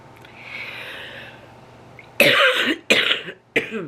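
Three loud, close coughs in quick succession follow a faint breathy pause, each a sharp rasping burst.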